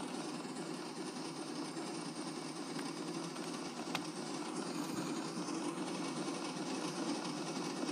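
A two-cylinder engine with valves built in Minecraft runs with a fast, steady mechanical clatter, an even rhythmic chugging that stays constant and fairly quiet throughout, with no talking.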